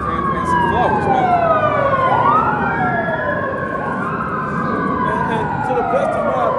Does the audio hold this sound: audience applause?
no